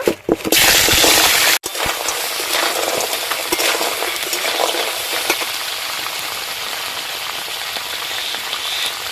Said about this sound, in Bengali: তেল গরম হয়ে গেছে, এবার কাঁকড়াগুলো ভেজে নেব।